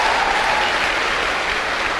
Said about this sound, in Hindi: जोरदार तालियां बजाइए मिस्टर योगेश यादव के लिए